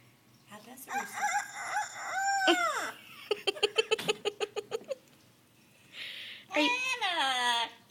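An Amazon parrot imitates a rooster's crowing in drawn-out, rising and falling calls, with a rapid run of clucking pulses between them, heard close and clear.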